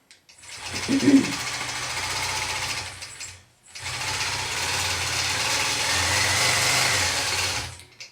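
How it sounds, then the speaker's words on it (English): Longarm quilting machine stitching in the ditch around an appliqué square, a steady close mechanical whir with needle chatter running continuously, briefly stopping then restarting and continuing to the end, heard alone. "And then I'm just going to stitch in the ditch all the way around the inside of this square."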